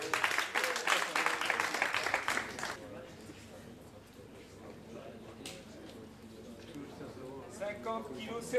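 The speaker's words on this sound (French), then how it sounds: "75 kg pour Miller, on peut l'applaudir." An audience at a boxing weigh-in applauds briefly, loud clapping for about three seconds that then stops abruptly, leaving quiet room murmur.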